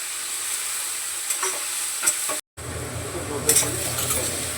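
Onion and leaves tossed into hot oil for a soybean vadi curry, giving a steady close sizzle with stirring scrapes and a brief cut-out midway before the frying hiss resumes.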